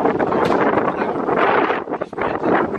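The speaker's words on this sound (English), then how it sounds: "So windy, the trees are about to blow down." Strong wind roars steadily across the microphone, gusting and buffeting loudly with a brief dip before surging again.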